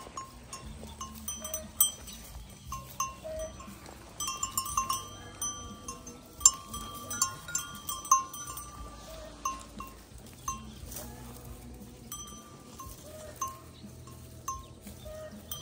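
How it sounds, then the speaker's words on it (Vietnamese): Pregnant goats on a farm, heard as scattered bleats and clinking bell-like tones over a soft, busy rural background, with no talking. "Hai con dê sắp đẻ rồi."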